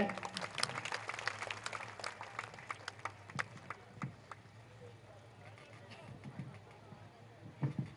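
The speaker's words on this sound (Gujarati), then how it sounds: "જોરદાર તાલીથી અમને વધાવીએ." Audience applause at a political party induction event in Valiya, Bharuch, a scattered crowd clapping with sharp individual claps and background hubbub, fading and rising again toward the end.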